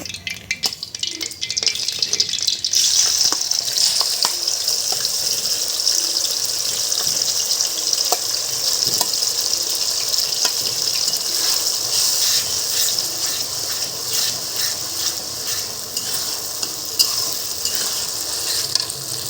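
Spice pastes, garam masala, cumin and onion pastes, whole onion, garlic and green chillies for a beef curry hit hot oil in a wok. A quiet moment gives way to a loud, steady, continuous sizzle that lasts to the end.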